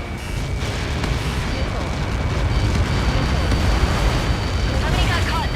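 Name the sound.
explosion from a missile impact in video game Ace Combat 7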